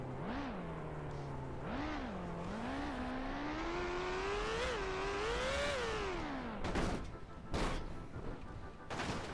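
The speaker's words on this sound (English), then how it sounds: "Wow, this car's really loud." Loud car engine in BeamNG.Drive, a strained droning tone that rises and falls with repeated revs and climbs for several seconds, then cuts into a few sharp, noisy bangs.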